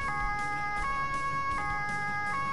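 A two-tone police siren from the driving game Autobahn Police Simulator wails steadily, switching back and forth between two pitches in a regular rhythm, clear and continuous with no talk.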